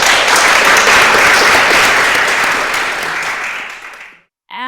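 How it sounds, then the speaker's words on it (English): A lecture audience breaks into loud, dense applause that holds steady for about four seconds, then fades and stops abruptly before a voice starts speaking. "big round of applause for Mark."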